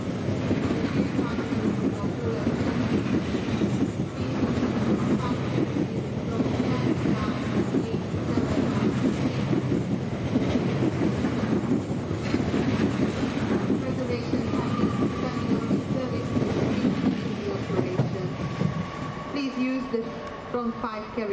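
LNER passenger train at Doncaster station, a steady heavy rumble running throughout with a public-address voice over it, easing and thinning in the final seconds.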